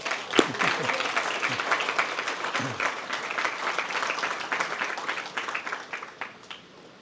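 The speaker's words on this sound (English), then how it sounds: "Let's give him a big round of applause." Steady applause from an audience at a Vyasa Puja gathering in Vrindavan, dense clapping sustained throughout with a few sharper claps standing out near the start.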